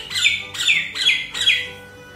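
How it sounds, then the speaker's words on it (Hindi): A bird perched nearby gives four sharp, loud squawking chirps at an even rhythm, close and alone without speech. "ये सुबह से आके यहाँ बैठ जाती है और चहचहा, इसकी चहचहाट मुझे पसंद है"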